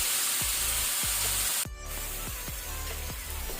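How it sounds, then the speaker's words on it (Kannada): Ground tomato paste frying in hot oil on a medium-to-high flame for chole masala, a loud, continuous hiss and sizzle with several dull thumps of a spoon, briefly dropping out before resuming. "ಇದನ್ನೀಗ ನಾವು ಮೀಡಿಯಂ ಟು ಹೈ ಫ್ಲೇಮಲ್ಲಿ ಒಳ್ಳೆ ರೀತಿ ಫ್ರೈ ಮಾಡಬೇಕು."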